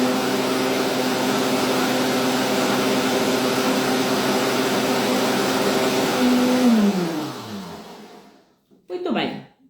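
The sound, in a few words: blender motor running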